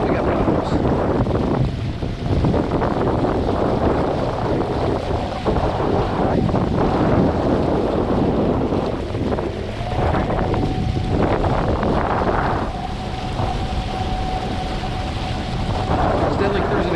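Electric kayak motor pushing the boat at about 8 mph, drawing 65 amps and 3,000 watts, heard as a faint whine under heavy roaring wind buffeting and rushing water across the whole stretch.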